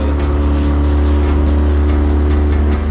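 Steady, loud drone of a Mercury outboard motor converted from 9.9hp to 15hp, pushing a boat across a pond at part throttle, with a constant low hum and no speech.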